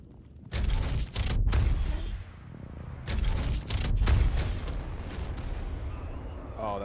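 Gunshots in Apex Legends, a few loud close bursts and heavy booming shots separated by brief lulls, with quieter distant firing in between.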